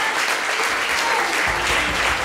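An audience claps for a musician, a dense, loud, sustained burst of applause from many hands continuing throughout, with no voices heard.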